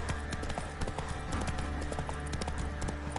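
Steady clip-clop of Roach the horse's hooves in The Witcher 3, a continuous trotting rhythm close by over game ambience and music.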